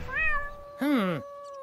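Cat meowing in the Deponia point-and-click game: two clear rising-falling meows, the first at the start and a louder, lower one about a second later, close and distinct over a quiet musical background.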